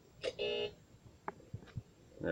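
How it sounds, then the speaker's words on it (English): A few short electronic beeps from the puzzle game Sinister Edge, spaced irregularly and fairly faint, with a couple of soft low thumps between them. "Yeah, beep at me."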